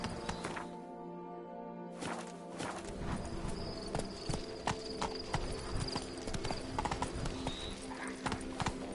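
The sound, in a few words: horse Roach trotting, hoofbeats, in a video game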